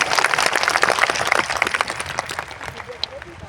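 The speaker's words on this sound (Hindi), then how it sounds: "ग्रुप की ओर से एक बार जोरदार तालियां सभी कलाकारों के लिए" An audience applauds performers at a special event in Dehradun, a dense burst of many hands clapping that thins out over a few seconds, with voices mixed in.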